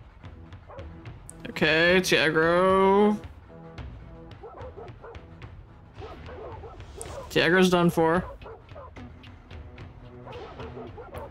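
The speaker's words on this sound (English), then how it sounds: "So much barking." Dogs bark and yip in the video game Soulstone Survivors, two loud bursts of harmonic barking and whining over game sounds, with a voice talking between them.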